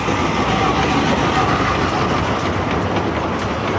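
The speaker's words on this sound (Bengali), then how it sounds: "আরেকটা ট্রেন দেখতে পাচ্ছি, এটা হচ্ছে মৌমাছি ট্রেন।" A bee-themed toy train ride at a month-long crafts and products fair in Chandgaon, Chattogram, rumbles and rattles steadily and close by, a continuous dense clatter with no talk.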